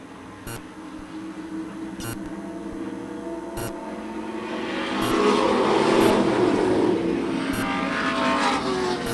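Ford Pinto race cars in a senior tour auto race roar past on the track, engine noise swelling from a distant drone to a loud close pass midway, with faint periodic beeps throughout.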